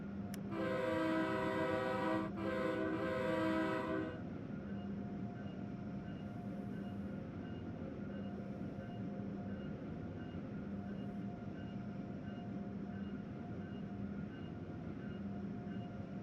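Acela Express train in Train Sim World 3 sounding a loud multi-tone horn in three blasts over the first four seconds, then a steady low rumble of the train running on as it slows toward a station.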